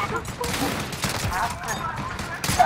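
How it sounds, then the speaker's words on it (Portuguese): Rapid bursts of gunfire from an online shooter game crackle in quick succession at moderate volume, with a voice talking over them. "Os caras tá fuzilando o bagulho"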